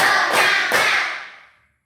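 Three hand claps in a classroom-style group activity, the first two close together and a third following, sharp and fairly loud, each ringing briefly before fading into silence.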